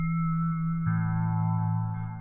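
A synthesized bell-like tone built in the Predator 2 synth, sustained with harmonic partials and a heavy reverb tail, swelling brighter partway through and held steady throughout, with no talk.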